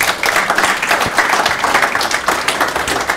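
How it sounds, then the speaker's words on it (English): Audience clapping at the close of a public policy talk on entrepreneurship, a steady, dense patter that stays loud and continuous for a few seconds with no voices over it. "So if everybody can give Garreth a big round of applause."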